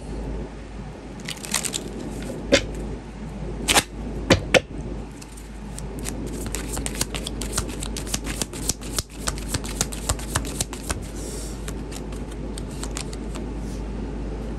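Deck of astrology cards being shuffled by hand, a string of crisp riffling flutters and sharp taps that grows into dense rapid shuffling near the mic, with no talking.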